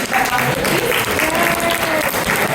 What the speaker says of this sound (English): A round of applause for all of those.